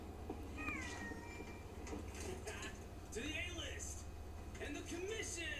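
A cat meows several times in the video game Monster Hunter: World, short mewing calls over a steady game background hum, with a voice talking alongside.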